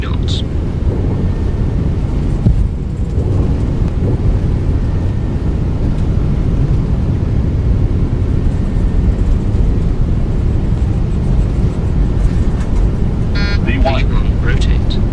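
Boeing 737NG jet on its takeoff roll in the X-Plane 12 flight simulator, a loud, steady engine roar filling the clip, with speech briefly over it near the end.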